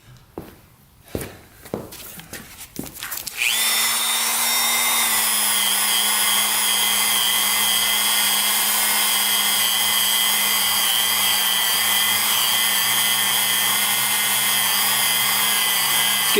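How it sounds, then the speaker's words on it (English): Some quiet clunks and shuffling lead into a cylinder hone spinning up on the rusted engine cylinders of a seized Kawasaki Mule, then running in a loud, steady, high whir that holds unbroken to the end. "let's get the hone out and see if we can get these cleaned up"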